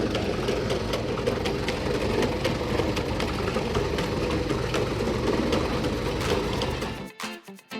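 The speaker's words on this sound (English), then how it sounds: "A large drum with a mesh spins and separates clods of earth and earthworms" A large spinning mesh drum separating clods of earth from earthworms, a steady loud mechanical whirring and rattling drone that runs unbroken before cutting off abruptly near the end.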